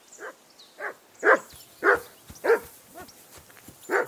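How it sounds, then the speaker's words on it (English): A dog barking in Kingdom Come Deliverance II, a run of about eight sharp, evenly spaced barks at close range, some louder than others, with faint softer yips between. "that barking's driving me nuts"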